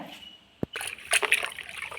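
A sharp tap, then water splashing and sloshing as mint leaves are swished around in a bowl of water, close and fairly quiet.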